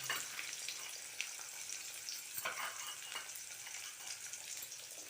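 Green chillies and onion fry in hot oil with mustard seeds, giving a steady, faint crackling sizzle with soft stirring scrapes throughout.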